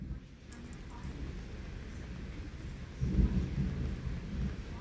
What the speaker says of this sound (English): Listen to that thunder. It's shaking the house.